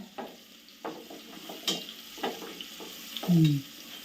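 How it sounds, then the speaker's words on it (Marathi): Green chillies and curry leaves hit hot oil, giving a soft sizzle with a few brief crackling pops and stirring scrapes, fairly faint and close. "मिरची टाकली कढीपत्ता टाकला"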